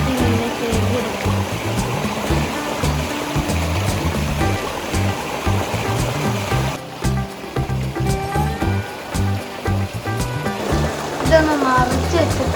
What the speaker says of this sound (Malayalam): നല്ല വൃത്തിയിൽ പുഴയത്തെ വെള്ളം കൊണ്ട് നമുക്ക് ഇങ്ങനെ കഴുകിയെടുക്കാം